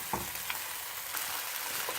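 Vegetables and onion frying in olive oil in a pan while being stirred, a soft steady sizzle with occasional scraping spoon strokes, close and alone.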